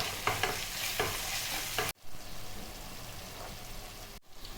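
Turmeric and ginger-garlic paste stirred in a frying pan for an egg masala, a steady close sizzle with scraping strokes and a brief cut partway through, no talking.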